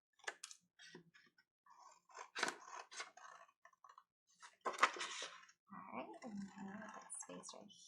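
Scissors snip through a paper figure, cutting it out of a drawn circle in short irregular clicks and scrapes at close range, with some quiet rustling between cuts.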